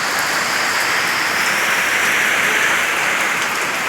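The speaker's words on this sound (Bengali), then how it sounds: "দেখেন কীরকম বৃষ্টি" Heavy rain pours down steadily as a dense, even hiss with no breaks, loud and close throughout, with no voices over it.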